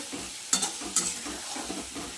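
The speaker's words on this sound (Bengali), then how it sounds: "দেখুন বন্ধুরা আমি কষিয়ে নিচ্ছি সুন্দর করে" Spices with chili powder sautéed in a pan for a parshe fish curry with potato and pointed gourd, a continuous sizzle broken by a couple of sharp spatula scrapes and softer stirring knocks.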